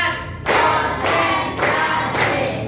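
Three loud, sharp bursts of hand clapping in an even rhythm in a classroom, each ringing briefly in a reverberant room.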